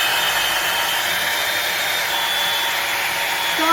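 A budget Dyson Airwrap dupe hair styler blows air on its heat setting, giving a steady, close, fairly loud whoosh with a faint whine that holds evenly throughout, with no talking.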